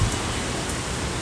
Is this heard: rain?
yes